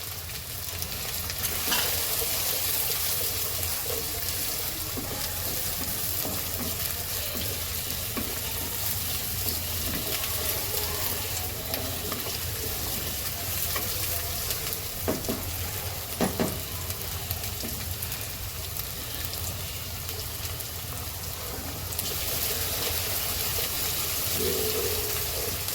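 Green onion and garlic fry in a pan for an eggplant oro, giving a steady, close, broadband sizzle that runs the whole time, with occasional soft stirring knocks and no talking.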